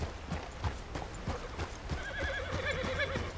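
A horse in Red Dead Redemption 2 clip-clops with steady hoofbeats, then lets out a wavering neigh in the second half, close and fairly loud over a low background rumble.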